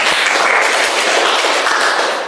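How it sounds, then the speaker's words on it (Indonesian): Classroom applause for a student named Bella, a dense, steady patter of many hands clapping together at close range, sustained evenly from start to finish with no talking. "Oke, tepuk tangan buat Bella."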